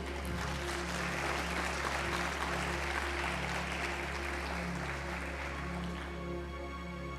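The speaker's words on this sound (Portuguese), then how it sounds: "Aplauda Jesus." A church congregation claps during a Portuguese-language worship service, a steady wash of applause held over a constant low hum from the sound system, fading slightly near the end.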